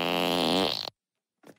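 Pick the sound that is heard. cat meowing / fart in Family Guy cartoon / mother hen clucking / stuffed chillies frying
fart in Family Guy cartoon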